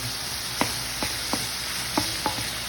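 Garlic frying in a pan with tomato gives a steady, close sizzle, broken by a few sharp clicks of a utensil stirring against the pan, with no speech.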